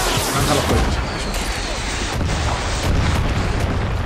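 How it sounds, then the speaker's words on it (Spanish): Continuous heavy booms and blasts from rocket launches in Far Cry 6 roll together, loud and dense, with launches and explosions overlapping for several seconds. "Lanza los cohetes."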